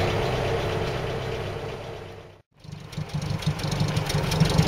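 A Land Rover Series 3 engine idles with knocking rattles, cuts out briefly, then revs back up louder and rougher, loose parts clattering as the throttle is pressed hard.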